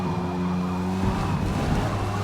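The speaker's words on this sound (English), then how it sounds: "And another spin in the same corner as lap 1" Touring race car spinning out in the Forza Motorsport video game, engine droning under a sustained tire squeal and skid that swells then fades over a couple of seconds.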